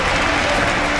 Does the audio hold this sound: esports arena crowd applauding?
yes